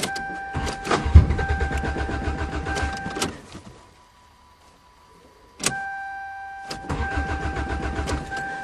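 A 2009 Toyota cold-starting in winter: the starter cranks for a few seconds and the engine catches, then after a pause it cranks and fires again, with a steady whine carrying through both attempts, close by and no talking.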